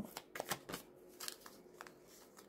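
Tarot cards riffled and cut by hand at close range, a run of crisp papery shuffling bursts with short pauses between them, quiet and with no voices.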